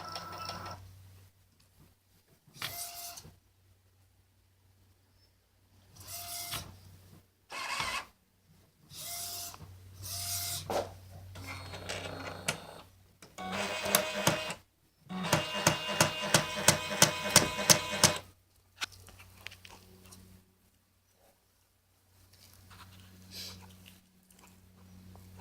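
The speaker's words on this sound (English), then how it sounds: "now it's working, and it's going to start priming up the ink cartridges" Mechanical whirring and clicking from an Epson 1400 inkjet printer priming its ink cartridges, coming in bursts separated by pauses, with a rapid ratcheting rattle in the middle; quiet and close, no talking.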